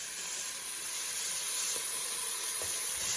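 Pancetta sizzles in a pan while chicken cacciatore is cooked, a steady, moderately quiet hiss and crackle that continues without a break.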